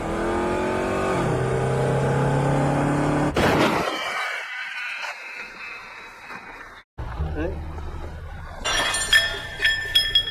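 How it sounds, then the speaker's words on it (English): A car deliberately crashes into a parked police car. An engine hum gives way to a sharp impact with clattering debris, a brief near-silent gap, then further clanks and rattling. Voices appear faintly. "When he sees a police car badly parked, he crashes into it on purpose"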